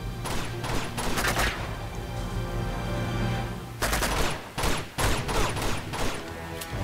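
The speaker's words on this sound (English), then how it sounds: "So I'm hanging off a thing while shooting dudes who are shooting at me." Pistol shots and enemy gunfire crackle through a firefight in Uncharted 2, with loud bursts of rapid shots, a brief lull, then more volleys near and sharp over a low rumbling game soundtrack.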